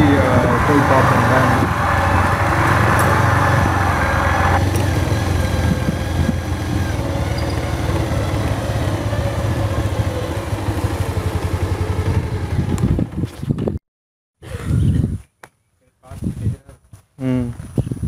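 A motorcycle engine rumbles loudly and continuously up close, with wind noise, before cutting out into choppy bursts and silences near the end.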